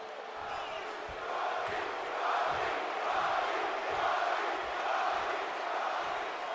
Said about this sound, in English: Crowd letting us know who they want to win today.